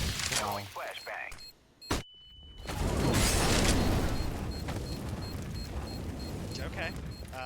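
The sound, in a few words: flashbang grenade being thrown in a video game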